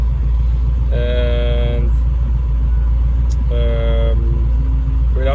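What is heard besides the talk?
Range Rover Classic with Chevy V8 engine driving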